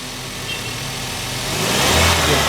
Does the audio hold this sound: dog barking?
no